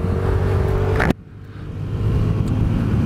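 A Vespa GTS Super 300 scooter holds speed on the highway, its engine drone steady under heavy wind roar, with a sharp burst of buffeting cutting off abruptly before the road noise swells back in.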